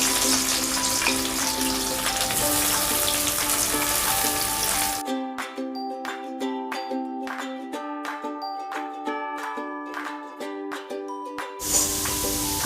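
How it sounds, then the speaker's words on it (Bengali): Chopped onions fry in hot oil in a heated wok for chicken biryani, giving a loud, dense sizzle at first. Tonal music plays alongside, and the sizzle drops out midway before briefly returning near the end. "পেঁয়াজ কেটে রেখেছি, এগুলো দিয়ে দেব। ভালো করে আমি এটাকে ফ্রাই করে নেব।"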